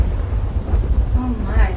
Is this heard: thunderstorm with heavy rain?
yes